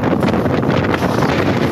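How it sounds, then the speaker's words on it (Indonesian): Strong wind sweeps across an outdoor site in Mamuju, West Sulawesi, where a main stage and dozens of small-business tents are blown down; a loud, steady roar buffets the microphone for the whole stretch. "Angin kencang tiba-tiba menyapu sejumlah tenda UMKM milik warga hingga membuat panik."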